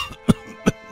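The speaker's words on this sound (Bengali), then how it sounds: "এটা বলতে বলতে ধর্মপালের আবার জোরে কাশি ওঠে" An elderly man in an animated Bengali folk tale coughs loudly: two short, sharp coughs about a third of a second apart, close and clear with nothing else around them.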